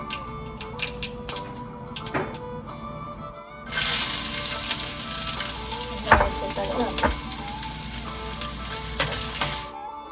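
Onions hit hot oil for a tempering and burst into a loud, steady sizzle partway through, after quieter clinks and utensil taps, with occasional stirring scrapes over the continuous frying hiss.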